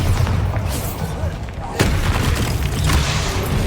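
Bombarda blasting spell going off in Hogwarts Legacy, a booming explosive burst with a sharp crack midway over a rumbling bed of continuous game combat noise, loud and close.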